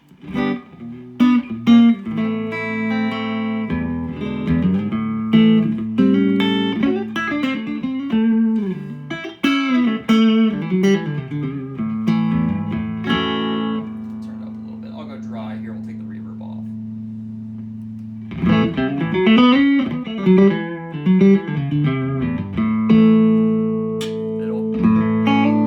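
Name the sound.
Epiphone Casino electric guitar with overwound P90 pickup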